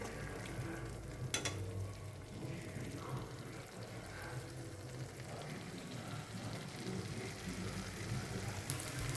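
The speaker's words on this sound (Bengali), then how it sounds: "এটা আরেকটু ভাজলে মশলাটাও পুরোপুরি ভাজা হয়ে যাবে আর আলুগুলোও সেদ্ধ হয়ে যাবে।" Spice paste and potato pieces fry in oil for a Bengali dhai (shilong) fish curry. The sizzle is steady and continuous, with soft bubbling and occasional stirring, at a moderate level and close to the pan.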